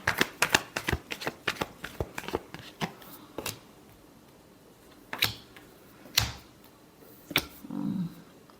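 Tarot cards being shuffled by hand, a quick run of crisp riffling flicks up close, then a pause and a few scattered slaps and taps as the deck settles.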